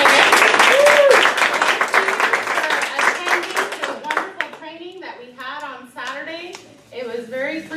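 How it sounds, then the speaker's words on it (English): A meeting audience gives a round of applause for newly installed officers, a dense burst of clapping for several seconds that fades as a voice begins talking. "let's all give a round of applause to our new officers that are here today"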